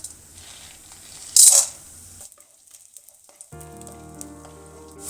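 Chana dal frying in a little oil in a pan over low heat, a brief soft sizzle and stirring that gives way to quiet and then other kitchen sounds.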